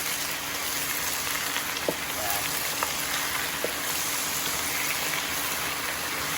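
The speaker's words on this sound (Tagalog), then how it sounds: "Gisahin na natin yung talong." Eggplant sautéing in a hot pan for a Filipino vegetable dish gives off a steady, dense sizzle and hiss throughout, with a few faint clicks of the pan or utensil near the middle.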